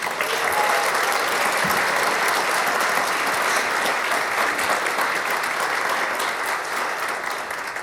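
A large audience at a Girl Scouts Leading Ladies honors event claps steadily for the women being recognized, a dense, even wash of applause sustained without a break.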